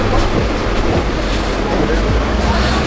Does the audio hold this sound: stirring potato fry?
no